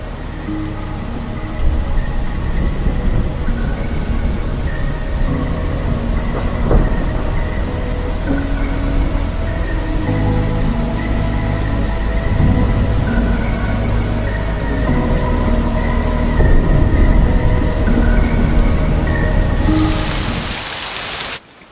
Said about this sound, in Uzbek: Kechasi ular maktabga kirishdi va ko'chada yomg'ir yog'yapti